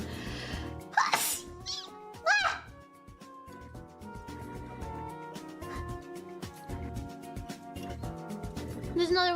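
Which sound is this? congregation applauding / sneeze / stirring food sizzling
sneeze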